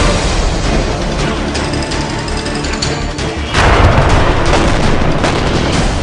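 A bomb blast in Afghanistan in news footage, heard as a loud, dense crackling rumble that surges into a heavier burst partway through and stays harsh and sustained to the end.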